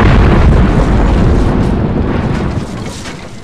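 A bomb goes off in the X-Files video game: a loud, heavy blast with a dense low roar that fills the space and slowly fades.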